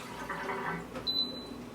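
Water, one and a half cups, poured into an Instant Pot as a soft, steady splashing that runs for nearly two seconds, heard close and fairly quiet.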